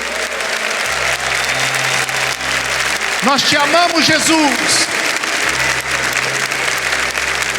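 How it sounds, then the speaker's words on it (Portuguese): A church congregation applauds during a worship service: steady, dense clapping fills the whole stretch while a voice speaks and briefly sings over it. "pode aplaudir esse Deus maravilhoso"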